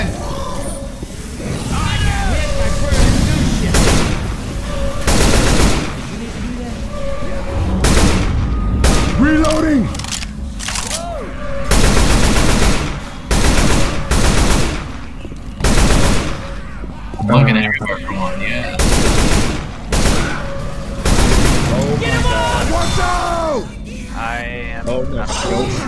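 Dense Left 4 Dead 2 gunfire rattles throughout, rapid bursts and single loud shots close up, with game sounds and players talking over the shooting.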